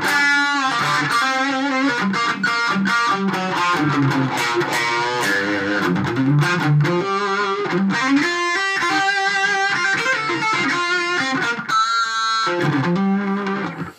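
Heavily overdriven electric guitar, played through overdrive pedals into an amp, plays continuously, thick distorted chords ringing loud and steady with no voices.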